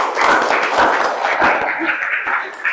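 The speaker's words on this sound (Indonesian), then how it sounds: "Beri tepuk tangan untuk Misi." Applause from a classroom or school audience, a crowd of hands clapping loudly and unevenly for a short stretch, with some voices mixed in.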